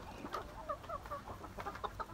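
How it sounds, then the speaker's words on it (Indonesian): Barred Rock and layer hens cluck in a coop at evening feeding, a fairly quiet stream of short, overlapping clucks and murmurs from several birds at close range, with no talk. "ini adalah ayam baretrok"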